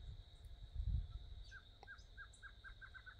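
Birds call at a rural farm, including a barred antshrike, whose series of short accelerating notes rings out clearly over faint low rumbles, with a few other distant chirps.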